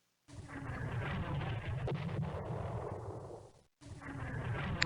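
A missile barrage in the Civilization 2 strategy game, heard as a loud, continuous rumbling roar of launches and blasts that runs several seconds, breaks off briefly, then resumes.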